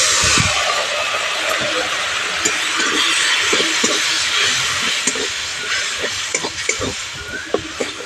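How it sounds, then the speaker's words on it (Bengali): A spice paste of coriander powder and Kashmiri chilli powder with a little water, frying in a pan with squash and potato while being stirred, gives a steady hissing sizzle with soft scraping strokes and no speech. "মশলাটা খুব ভালো করে কষিয়ে নেব"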